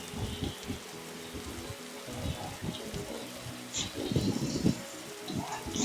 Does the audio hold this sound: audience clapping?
no